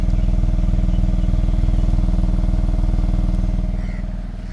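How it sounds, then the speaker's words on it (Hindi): Mahindra XUV 3XO compact SUV exhaust revving, a steady loud low engine drone with rapid pulsing throb, holding level before easing off near the end. "तो ऐसे ही अभी साइलेंसर की आवाज़ सुनिए आप।"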